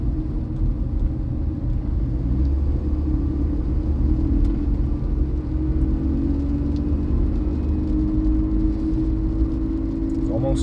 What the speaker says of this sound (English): The bus is still moving.